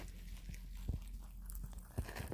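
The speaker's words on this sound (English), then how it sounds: "whilst you listen to the munching" Pet rabbits munching their breakfast up close: soft, quiet crunching and biting sounds in a calm room, with a couple of sharper crunches standing out.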